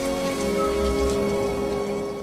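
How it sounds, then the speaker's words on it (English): Steady rainfall on a surface, a dense continuous patter at even loudness with no voices, mixed with a faint low rumble and some tonal background. "I wish the rain would stop just once."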